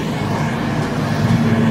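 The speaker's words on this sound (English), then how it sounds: "Environment, traffic everywhere" Steady, continuous rumble of downtown Kansas City street traffic, with a constant low engine hum and a broad wash of city noise throughout, fairly loud and close, with no clear voices.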